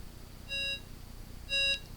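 Ringer-mode beep on a T-Mobile T665 mobile phone: two short, clear electronic tones about a second apart, alone over faint background hiss.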